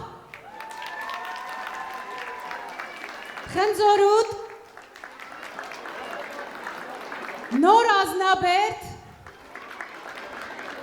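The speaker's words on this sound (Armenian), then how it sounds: "կարող եք մեկը մյուսին էլ ծափարել" An audience at a town's 60th anniversary celebration breaks into two short, loud bursts of clapping and cheering as a speaker reads out village names over a sound system, with amplified talk between the bursts.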